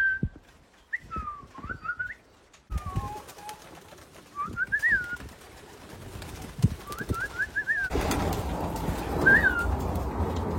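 Homing young birds at the loft after a 20-mile toss, with short rising and falling whistled calls repeated in bursts over quiet surroundings and some thumps and rustling, growing busier toward the end.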